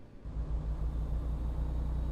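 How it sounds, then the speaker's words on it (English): A heavy truck engine rumbles low and steady as the rig pulls away in American Truck Simulator, a continuous deep drone with no talk over it. "My truck doesn't have the grunt of yours, Chris."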